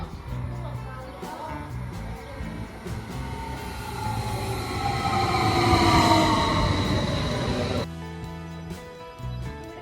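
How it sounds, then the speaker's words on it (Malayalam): A train pulls into a station in Switzerland with a rising rumble and a long metallic squeal of braking wheels, loud and near, then the noise cuts to a quieter hum as it stops. "നമ്മുടെ ട്രെയിൻ എത്തിട്ടോ."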